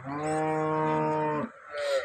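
A single long, loud cow moo with rich harmonics, lasting over a second, then a brief quieter rustle and noise.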